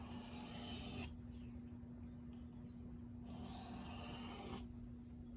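A D2 steel knife rasps against the 600 grit side of a sharpening stone in two long, steady strokes separated by a quieter stretch, faint and close, with a low hum underneath.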